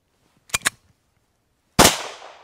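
A Retay PT 24 blank pistol fires two quick sharp reports close together, then after a pause a louder blast rings out with a decaying tail, all close by and with no talking.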